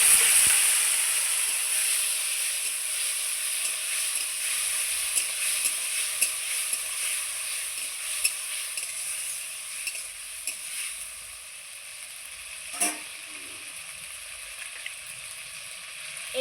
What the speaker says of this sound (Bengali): এইবার আমি টমেটোগুলো ছেড়ে দেবো।